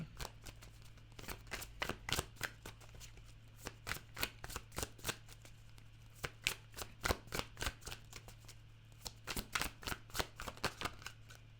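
Tarot cards being shuffled by hand in quick riffling bursts, a rapid crisp flutter of clicks repeating in rhythmic clusters for about ten seconds over a low steady hum, close and alone with no voices.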